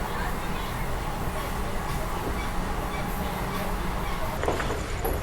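The Kalindi Express passenger train runs on the rails near Kanpur Central with a steady rumbling roll and faint clickety-clack, heard from inside the coach under a low background murmur of voices.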